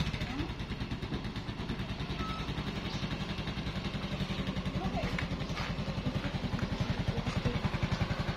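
A motorcycle engine idling while it warms up, a steady close putter with fast even pulses and light mechanical clatter throughout, with outdoor voices talking over it.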